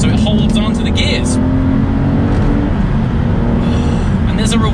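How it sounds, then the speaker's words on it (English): An Aston Martin DBS engine revs loudly through a heel-toe downshift, a steady near drone with rising and falling harmonics filling the whole clip alongside cabin noise. "there's a reward about this heel-toe downshift"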